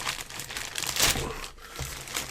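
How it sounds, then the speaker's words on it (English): Crinkling and tearing of plastic shrink-wrap being ripped open by hand from a boxed Windows PC game, close and continuous with a brief pause before more crumpling. "I'm just going to tear it open here"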